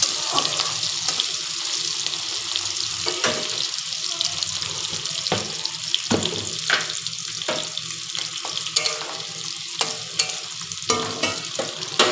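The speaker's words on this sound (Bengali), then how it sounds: "দেখো সাদা জিরা ফোড়ন দিয়ে দিচ্ছি পেস্টটা অ্যাড করছি" Spice paste sizzles and spits loudly in a hot pan after white cumin tempering, with bursts of crackle and a few clinks and stirring scrapes, no talk over it.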